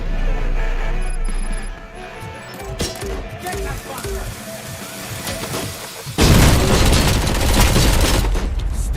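A heavy grenade explosion in RoboCop: Rogue City erupts as a sudden loud, wide blast. Continuous combat noise and other sounds fill the seconds before it, and the roar stays dense afterward.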